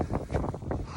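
Strong wind buffets the microphone in heavy, rumbling gusts in the Scottish mountains, loud and continuous with no other sounds.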